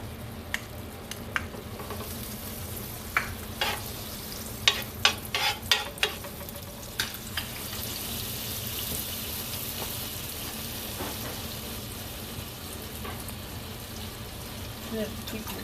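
Butter sizzles and fries in a pan with spinach, a soft steady crackle broken by a few louder pops and stirring scrapes, close up and fairly quiet.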